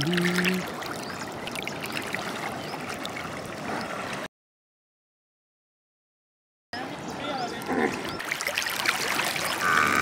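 Water splashes and ripples as buffaloes bathe in cold canal water in rural Pakistan, with the sloshing broken by a short stretch of silence before it resumes.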